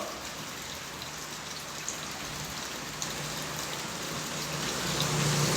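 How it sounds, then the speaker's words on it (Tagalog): Heavy rain pours down in a dense, steady hiss with a few sharper drops hitting a surface, growing slightly louder toward the end. "Ang lakas ng ulan, grabe!"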